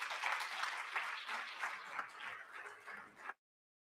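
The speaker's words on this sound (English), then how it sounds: "Ladies and gentlemen, Dr. Msizi Mjeza. A round of applause." Applause from a conference audience greeting a speaker, a dense steady patter of many hands that swells briefly and then cuts off abruptly.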